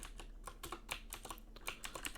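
Fingers typing on a computer keyboard: rapid, irregular clicking keystrokes, close and fairly quiet, with no voice over them.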